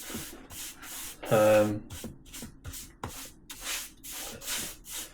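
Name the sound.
sanding painted wooden shelving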